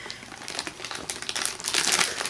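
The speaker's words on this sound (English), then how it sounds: "I don't know how easy you'd hear me over all the crinkling" Close, busy crinkling of Halloween candy wrappers such as Snickers being handled and sorted, a continuous rustling of plastic with quick crackly bursts that grow slightly louder toward the end, without talking.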